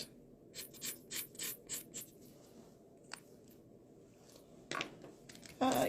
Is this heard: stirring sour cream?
no